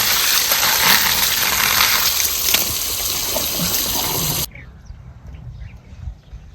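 Raw papaya is rinsed under running water, a loud, close, steady gush and splash that cuts off abruptly, leaving a faint, quiet room tone.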